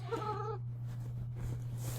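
A pet cat gives one short, plaintive meow up close at the start, followed by quiet room noise and a steady low hum.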